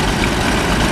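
An antique tractor with a dual fuel engine and an inverted kerosene system runs in a parade in Flagstaff, Arizona, giving a brief, close, steady low idle rumble with no voices.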